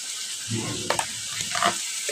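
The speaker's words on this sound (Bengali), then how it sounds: "মাছগুলো আস্তে আস্তে বসাই দিব" Sarputi fish, small winter fish being set into a pan for a spicy jhal curry, sizzle and crackle in hot oil, a short close frying hiss with a couple of brief spatters and no talking.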